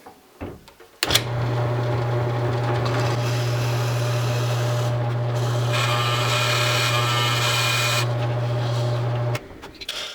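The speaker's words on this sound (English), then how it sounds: "So let's go ahead and drill this blank out." A drill press bores through a walnut pen blank held in a centering jig: the motor starts abruptly, holds a loud, steady whine with a strong low hum and a grinding cut for about eight seconds, then cuts off, with no talk.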